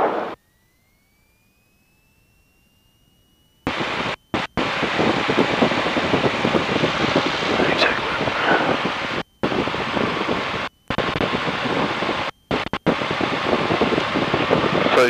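An engine idling at 1000 RPM with a slight misfire, a steady broadband rumbling hum that begins after a quiet start and is broken by several abrupt dropouts.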